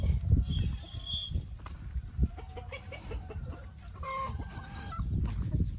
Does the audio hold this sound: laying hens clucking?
yes